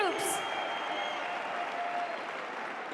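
A sold-out arena crowd in Tempe, Arizona, applauding and cheering in a dense, continuous roar, loud and steady with a whistle on top and an announcer's voice over it.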